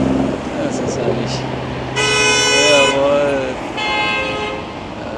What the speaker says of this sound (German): Jeder hupt rum.